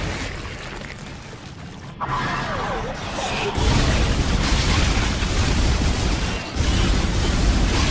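A grenade detonates in the sci-fi horror game Dead Space 2, a sudden heavy boom followed by a second burst and a sustained, roaring rumble of debris that fills the rest of the moment.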